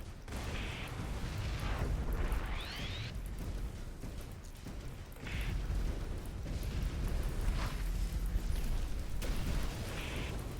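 Bomb explosions in the XMorph Defense tower-defense game, several booming blasts and bursts spaced every few seconds over a continuous noisy battle background, moderately loud with no voices.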